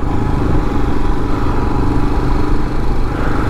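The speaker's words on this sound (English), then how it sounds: "All right, one Royal Enfield Himalayan." A Royal Enfield Himalayan motorcycle engine runs steadily close by, a loud continuous low rumble with dense mechanical clatter and no break in level.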